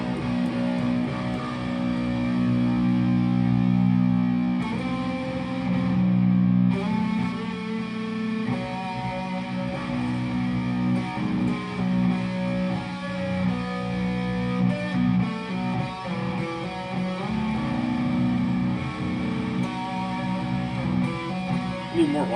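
Electric guitar through delay and reverb effects plays sustained, washy notes that ring and echo continuously, close and fairly loud.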